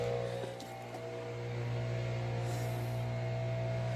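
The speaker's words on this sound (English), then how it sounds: "they're doing some leaf blowing" A leaf blower runs outside a small camper during a kitchen build, a steady droning whine held at a constant level and muffled by distance and walls, with no talking over it.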